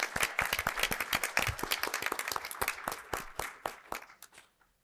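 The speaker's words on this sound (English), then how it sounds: "let's give a round of applause for all those people that make today happen" A small audience at a fall equity and inclusion capstone event claps for the staff who made the day happen, a close, distinct patter of individual hands that thins out and stops after a few seconds.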